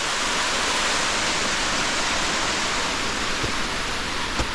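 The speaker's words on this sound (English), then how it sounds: "I've never been so close to a waterfall in my life." Rushing water of Wadsworth Falls heard up close from a small cave-like spot, a loud, dense, continuous roar with no breaks.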